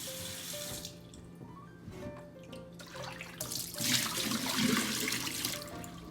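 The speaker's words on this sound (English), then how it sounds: "right before mixing rice, please rinse it once so the rice won't stick to the bottom." Tap water runs into and splashes around a wooden sushi tub (hangiri) as it is rinsed before mixing sushi rice, a steady close splashing flow that swells louder in the second half, with no talking.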